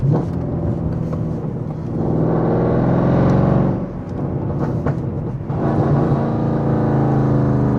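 Mercedes C63 AMG engine rumbling and revving loudly and close, with a steady roar that swells, dips briefly near the middle, then surges again.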